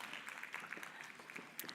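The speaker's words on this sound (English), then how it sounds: "Let's give our panelists a round of applause, please." Audience applause for the panelists at a National Electric Vehicle Summit, a brief patch of quiet, distant clapping from the room.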